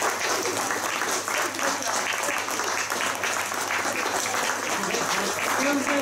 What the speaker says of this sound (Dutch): En ik vind dat we daar een enorm applaus voor geven.